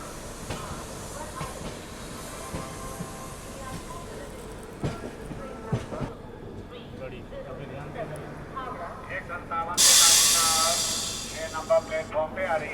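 At a busy railway platform the Asansol Mumbai Express stands idling amid station murmur and people talking, with a sharp burst of air hissing from the train near the end.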